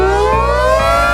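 T22 civil defense siren sounding loud and close, a steady slowly rising wail with a rough, chopping rumble underneath, brief and heard alone.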